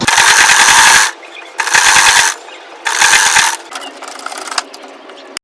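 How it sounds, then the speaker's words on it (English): A sewing machine top stitches the pocket bag of an Ankara print jumpsuit, running in three loud bursts of rapid, even stitching separated by brief pauses, with softer handling noise after the last run. "Now I'm going to top stitch it on the pocket side, on the pocket bag."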